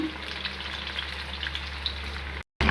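An egg frying in a pan while instant noodles are cooked in a home kitchen: a steady, close hissing sizzle with faint crackles throughout, cut off briefly near the end, with no talking.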